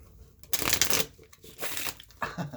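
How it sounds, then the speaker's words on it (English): A small fun-size tarot deck being riffle shuffled, giving two quick crisp bursts of fluttering card riffles close to the listener, separated by a short pause, with no talking over them. "Do they riffle shuffle?"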